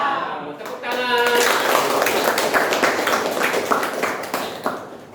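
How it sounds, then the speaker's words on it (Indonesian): A classroom of students clapping together in brisk, rhythmic applause, loud and sustained for several seconds, with a teacher's voice heard at the start. "Tepuk tangan."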